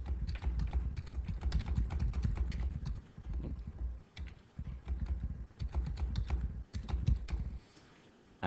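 Quick, irregular keystrokes on a computer keyboard as a secret message is typed, clattering in dense bursts with a few short pauses, ending in a near-quiet stretch; no voice is heard.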